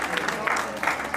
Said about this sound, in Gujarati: દીકરીની જોરદાર તાળીથી વધાવજો